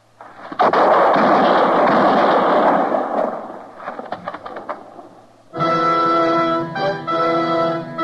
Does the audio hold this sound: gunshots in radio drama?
yes